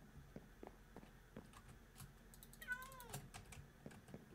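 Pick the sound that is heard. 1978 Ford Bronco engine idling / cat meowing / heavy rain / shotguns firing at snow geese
cat meowing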